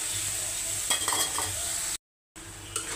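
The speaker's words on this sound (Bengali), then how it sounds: "আদা বাটা দিয়ে দিচ্ছে, আদাটা ভাজা হলে হলুদ মরিচের গুঁড়ো দিয়ে দেব।" Ginger paste fries with onion and spices in a pan for a meat curry, a close, steady sizzle with a brief burst of stirring and scraping, then a short gap of silence before the frying resumes.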